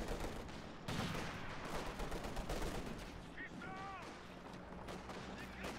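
Rattling gunfire and explosions from a WWII strategy game match with tanks and grenadiers, a dense continuous battle din with bursts and a few whistling shell sounds, under a commentator's voice.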